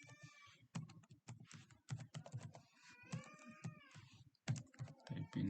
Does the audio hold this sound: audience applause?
no